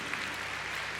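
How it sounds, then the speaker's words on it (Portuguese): A church congregation claps together in a brief, steady, fairly faint burst of dense applause. "E dê uma salva de palmas, igreja, porque Deus é tremendo."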